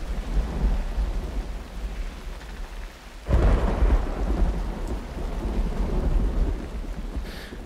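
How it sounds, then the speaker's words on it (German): Steady rain hisses over a low rumble in the adventure game URU: Complete Chronicles, and a loud thunderclap breaks in partway through, then rolls on beneath continuing rainfall. "es kann in diesem Zeitalter regnen und es sieht eigentlich sehr schön, ist schön gemacht und alles. Das Sounddesign ist eigentlich auch ganz schön."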